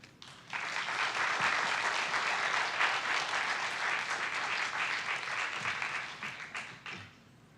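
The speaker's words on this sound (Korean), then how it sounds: "함께 박수하고 우리 말씀 듣도록 하겠습니다" A church congregation claps in welcome for the preacher at an anniversary revival meeting, a dense, even wave of applause building quickly, holding steady for several seconds, then fading out.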